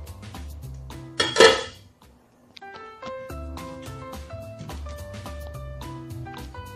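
Chicken fajita with onions and peppers being tossed on a metal tray, with clinks and scrapes of utensils against the tray, one louder burst of clatter near the start, then lighter tapping.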